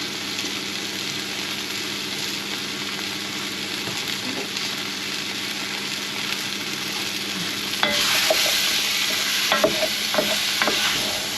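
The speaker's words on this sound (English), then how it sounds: "Let them all get coated with that." Beef bourguignon with carrots and tomato puree being stirred in a hot pan, steady close sizzle with a louder burst of frying and scraping stirs near the end.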